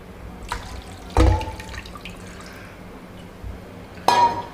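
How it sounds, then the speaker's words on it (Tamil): Water is poured into a pan of oil brinjal gravy in two short splashes, each with a clunk of a vessel, set against quiet kitchen background. "இது கூட இன்னும் கொஞ்சம் தண்ணி ஊற்றிக்கலாம்."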